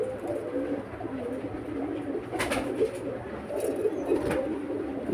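Pigeons cooing softly and repeatedly at close range, with a few brief rustles and flutters among them.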